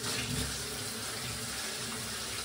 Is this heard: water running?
yes